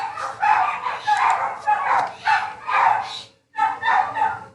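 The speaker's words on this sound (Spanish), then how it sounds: "disculpen el sonido de perritos del fondo" Several dogs bark repeatedly in a house somewhere off to the side, a string of yappy, evenly spaced barks with a short pause before a last couple of yips.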